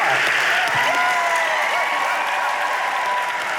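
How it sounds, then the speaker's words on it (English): A crowd packed into a room keeps up steady, loud clapping throughout, with faint cheering voices woven into the sustained wash of applause. "Let's clap some more."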